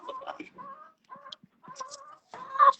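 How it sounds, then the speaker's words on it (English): Chickens clucking inside a coop during a blizzard: several close, loud bursts of clucks and squawks separated by short silent gaps. "I'm in the chicken coop"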